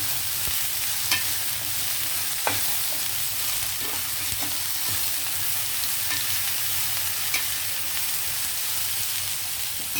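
Turmeric is stirred into broad beans and potato frying in a pan: steady close sizzling with scraping strokes and a few sharp spoon knocks against the pan.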